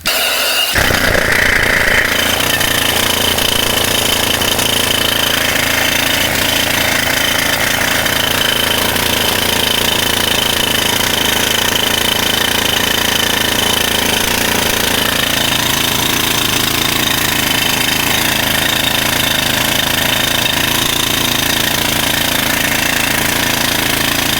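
Rock-splitting power drill running nonstop, a loud, close, jackhammer-like pounding roar that kicks in sharply at the start and holds steady.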